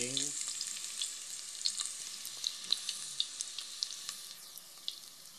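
Aromatics sauté in a pan as the base for ginataang kamansi, a quiet, steady hiss of sizzling oil with scattered clicks and scrapes from a stirring utensil, and no voices.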